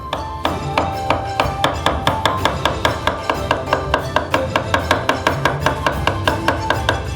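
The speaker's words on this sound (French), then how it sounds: "Les champignons, on les coupe dans l'assiette." A knife slices mushrooms on a plate in a quick, even run of crisp close chops, about four per second, loud and alone with no talk.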